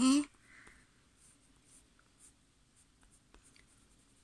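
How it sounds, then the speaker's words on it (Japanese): Colored pencil strokes shade a red tulip petal on paper, faint repeated scratchy lines at a close, quiet level after a short loud burst at the start. "花びらの繊維を意識して線でこう書く感じで塗っていってあげましょうね。"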